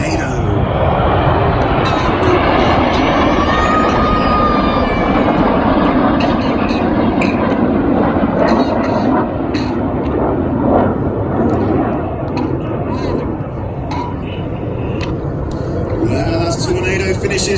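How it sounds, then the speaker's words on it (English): Red Arrows aerobatic jets roar continuously through a 2019 New York air show display, a loud, sustained broadband rush with the announcer's commentary running over it. "Red 1 about to bank the aircraft to the left, changing smoke color as they go"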